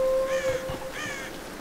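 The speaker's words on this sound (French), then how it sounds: "Des corbeaux." Crows in the video game Tomb Raider give two harsh caws in quick succession, clear and moderately close over a low background hum.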